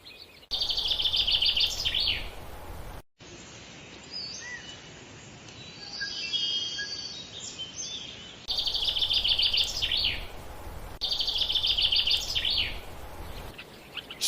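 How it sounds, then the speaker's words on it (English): Reed warblers sing from tall spring reeds in repeated bursts of busy, chattering song, fairly close and clear, broken by a quieter stretch in the middle. "Among the tall reeds, a pair of reed warblers begin building their nest."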